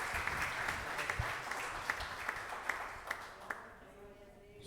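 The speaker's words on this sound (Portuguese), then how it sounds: "Dê uma linda salva de palmas ao Senhor" Church congregation applauding during a worship service, a steady wash of clapping with scattered sharper claps, fading toward the end, with faint voices underneath.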